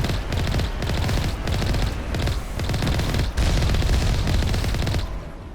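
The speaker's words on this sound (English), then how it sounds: "these are Geth turrets" Geth turrets in the video game Mass Effect fire continuously in loud, dense bursts of rapid gunfire, with dull booms layered throughout and a steady sense of combat close at hand.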